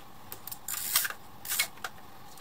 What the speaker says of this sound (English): The little click at the end was the lens.